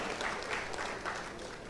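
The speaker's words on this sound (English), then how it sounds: "Can we get a round of applause for Mr." Audience at a town hall meeting applauding a former deputy police commissioner, a brief, moderately loud burst of crowd clapping.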